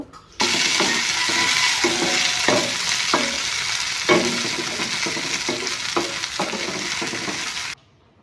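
A fried eggplant dish is stirred in a pan over low flame, a steady broadband sizzle running throughout with repeated soft scraping strokes of the spatula at irregular intervals, close and fairly loud, no talking.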